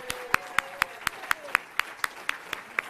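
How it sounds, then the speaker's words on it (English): Guests at the Illinois Democratic Party DNC breakfast in August 2024 clap in a thin, evenly spaced rhythm, about four sharp claps a second, fairly close and without cheering. "Let's give them another round of applause."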